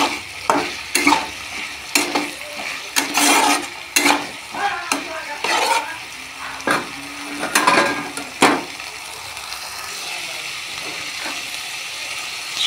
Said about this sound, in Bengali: কুমড়ো শাকটা মশলার সঙ্গে একটু ভালো করে নাড়াচাড়া করে কষে নেব